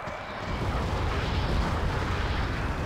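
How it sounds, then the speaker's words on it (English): Mortar fire striking a UAZ jeep in Wargame: Airland Battle, a dense, continuous roaring explosion rumble held loud throughout. "So Val's gonna go ahead and mortar this UAZ here."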